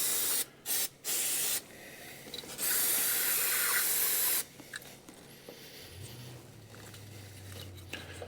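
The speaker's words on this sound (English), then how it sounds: "We've got some carburetor choke and throttle body cleaner." Aerosol can of carburetor choke and throttle body cleaner spraying into a 2014 Arctic Cat Wildcat 1000X intake, several short hissing bursts followed by a longer steady spray, close up.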